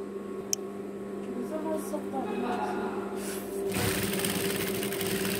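A sewing machine runs steadily, stitching fabric during a beginner sewing lesson; the motor hum grows louder and busier near the end, with no talking over it.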